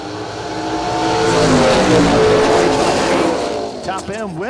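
Roaring drag racing engines at a bracket event, including an Oldsmobile, build into a loud sustained launch down the strip, with a track announcer talking over it before the noise fades.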